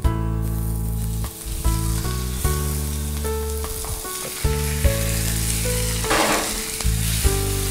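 Minced meat tipped into onions already frying in a pan sets off a loud, continuous sizzle, broken by repeated stirring scrapes and shifting bursts of crackle throughout, with no talking.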